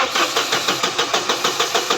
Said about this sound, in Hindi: ये देखिए, ये गाड़ी स्टार्ट हो गई।